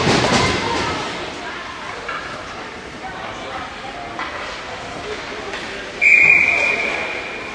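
Referee's whistle at a youth hockey game blowing one sharp, shrill blast of about a second, clear over crowd noise and play-by-play commentary.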